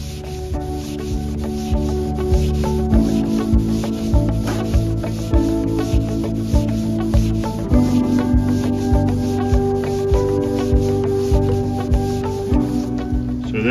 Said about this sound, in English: you take a rag, dip it in solvent, and you're gonna go back and forth